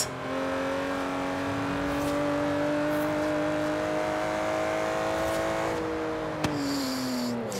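An Aston Martin Vantage GT12 with a V12 engine in the racing game Forza Horizon 3 holds a loud, sustained engine note that climbs slowly, then drops sharply near the end with a short click, and no one speaks.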